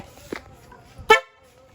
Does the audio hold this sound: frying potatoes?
no